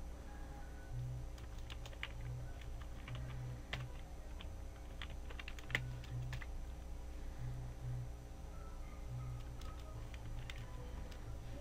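Steady computer keyboard typing while a file name is entered in Paint's save dialog, with quick irregular keystroke clicks at close range over a constant low electrical hum, no voices.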